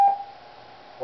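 A steady 800 hertz test tone, part of a frequency test for a Gemmy light show timer, holds at an even pitch for the full second, clear and moderately loud, with no other sounds.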